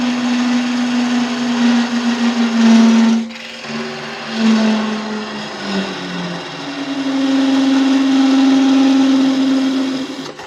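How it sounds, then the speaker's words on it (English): Woodturning lathe parting off a box lid: a steady high motor whine with a continuous cutting drone that dips and surges as the tool bites, loud and close with no talking. "Part off the piece for the lid."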